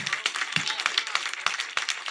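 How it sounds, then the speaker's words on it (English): A round of applause at a private business circle meeting: scattered, fairly quick claps from a small group, each sharp hit standing out, with a voice faintly under them. "Everybody give him a round of applause"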